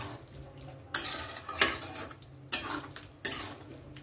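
A spoon stirs potato bhuna with sugar and chopped coriander in a pan, producing a handful of distinct metallic scrapes and clanks spaced about a second apart over a quiet background.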